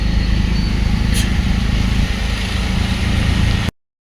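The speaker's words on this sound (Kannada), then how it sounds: "ಜೋರು ಮಳೆ ಬರ್ತಿದೆ, ಎಲ್ಲ ಫುಲ್ ಟ್ರಾಫಿಕ್ ಜಾಮ್" Motorcycles and cars stuck in a traffic jam in heavy rain at Basavanagudi keep up a loud, continuous engine drone and rumble that cuts off abruptly near the end.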